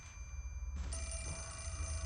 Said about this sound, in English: And now the phone's going off again.